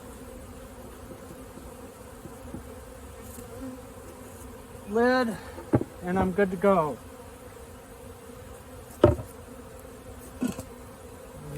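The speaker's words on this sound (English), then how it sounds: "Got some loose bees here." Honeybees buzz steadily around a hive in the background, with a few louder passes as bees fly close, while a person speaks briefly nearby.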